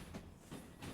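A freight train with tanker cars rolls along in Derail Valley, a quiet, steady rumble with soft rhythmic clicks from the wheels, heard alone over one second.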